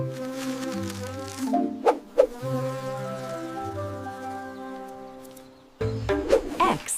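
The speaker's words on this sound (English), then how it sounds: "W is for wasp." A wasp buzzes as a thin, continuous drone that swells and fades, heard beneath steady background music.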